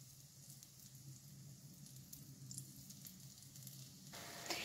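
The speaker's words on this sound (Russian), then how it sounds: "Жарим баклажаны на среднем огне до золотистого цвета с обоих сторон" Steady, quiet sizzling of eggplant slices frying in hot vegetable oil over medium heat, a soft continuous crackle with a brief louder spatter near the end.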